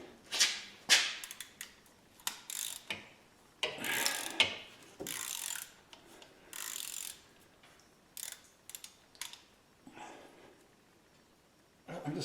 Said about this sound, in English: So our ratchet here.